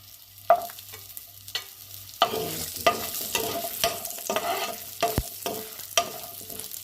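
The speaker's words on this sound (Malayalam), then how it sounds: "നമ്മൾ ഈ ചിക്കൻ ഫ്രൈ ചെയ്തെടുത്ത അതേ പാനിലേക്ക് തന്നെ നമ്മൾ ഈ ഈ ഉണക്കമുളക് അതുപോലെ തന്നെ ചെറിയുള്ളി" Dried red chilies and shallots fry in the same pan used earlier for chicken, a constant sizzle broken by sharp spatula knocks and scrapes against the pan at irregular intervals.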